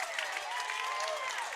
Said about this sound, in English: this Indy crowd excited about that blocking that they just saw